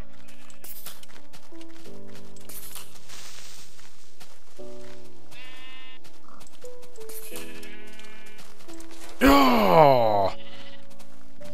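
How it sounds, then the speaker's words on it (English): Sheep in Minecraft bleat repeatedly against steady game music and soft footstep clatter, with one loud, close bleat near the end after a brief exclamation. "It's just the sheep."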